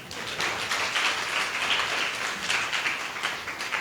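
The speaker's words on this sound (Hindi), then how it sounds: "ताली तो बजाओ।" An audience clapping together, a steady patter of many hands that holds at a moderate level throughout, fairly close, with no talk over it.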